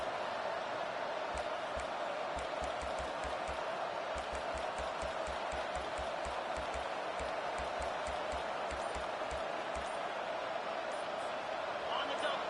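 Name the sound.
stadium crowd cheering at a football game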